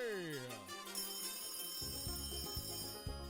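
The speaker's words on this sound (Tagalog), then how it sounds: "kapag narinig mo na ang mahiwagang kring-kring" A telephone ring sound effect plays loudly during a call-in contest on DZRH, a Philippine radio station, with repeated tonal rings over a busy, pulsing musical backing and no talk.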